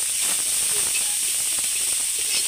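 Dried fish frying in oil in a wok gives a steady, close sizzle and hiss that runs without a break, with faint scraping clicks mixed in.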